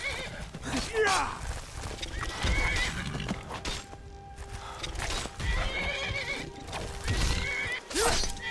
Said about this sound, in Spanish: Oh, ahí va el caballo.